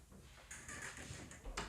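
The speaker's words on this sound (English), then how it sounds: "Shut the door." An indoor door in a home hallway is pushed shut, a soft sliding scrape followed by a quick muffled knock as it closes, close by and quiet, with no talk.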